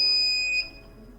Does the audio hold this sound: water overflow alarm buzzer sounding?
yes